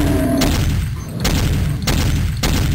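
Gunfire from the video game Doom 2 on the Hell Revealed 2 map An Eye for an Eye, loud booming shots repeating in a steady rhythm, roughly four heavy blasts over a dense, constant game din.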